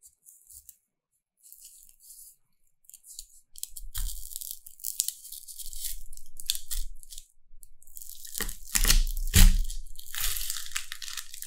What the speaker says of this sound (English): Let's cut the onion.